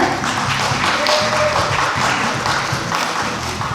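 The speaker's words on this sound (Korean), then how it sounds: "여러분의 큰 박수로 모시겠습니다" A conference audience at a Busan webtoon festival applauds as a speaker is introduced, with dense, steady clapping that holds at full volume for the whole stretch.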